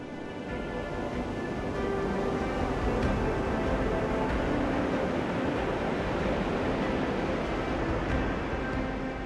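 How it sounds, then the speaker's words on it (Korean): Strong ocean waves roll onto a beach in a continuous, loud, broad wash of surf, steady throughout with some wind noise and no voices. "예전보다 더 강해진 파도는 연일 해변으로 몰아칩니다."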